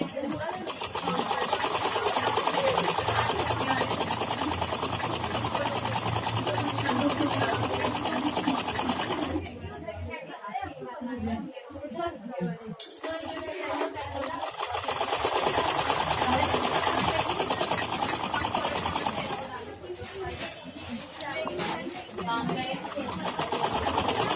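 A sewing machine stitches a churidar pajama in long continuous runs, pausing briefly around the middle and again near the end, loud and close with a voice talking over it.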